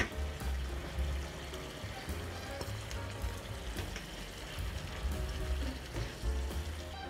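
Beef filling with raisins cooks in a pan, giving a steady sizzle and bubbling simmer at close range with occasional stirring.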